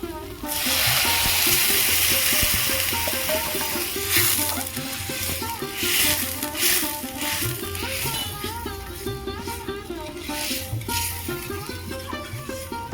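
Water pours into a pan of dal and potatoes that has been frying for a long time, and a loud, steady hiss and bubbling rise as the liquid meets the hot pan. Clinks and stirring follow.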